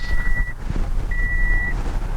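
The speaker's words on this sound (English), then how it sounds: "You can hear the seatbelt chime on." A 2010 Toyota Yaris seatbelt warning chime sounds twice as long, steady high tones over a low idling engine rumble.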